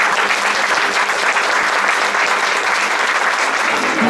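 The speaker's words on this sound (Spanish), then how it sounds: "le damos un aplauso en agradecimiento" A church congregation at a chapel gathering breaks into steady, dense applause for the visiting priest, loud and continuous throughout with no talk over it.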